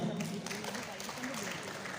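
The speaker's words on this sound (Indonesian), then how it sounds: "Tepuk tangannya untuk Mas Ali." Audience applause for a guest at an Indonesian technology talk event, a steady wash of clapping from a crowd lasting the full two seconds, with some voice-like sound mixed in.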